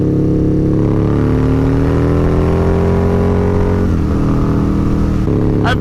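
Harley-Davidson V-Rod motorcycle fitted with a Vance & Hines exhaust revs loud and close, a steady deep engine roar that climbs and dips in pitch over about six seconds, with no voices.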